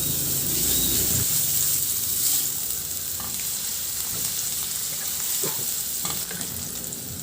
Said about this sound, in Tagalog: Magpainit muna ako ng mantika at igisa ko na rin yung bawang.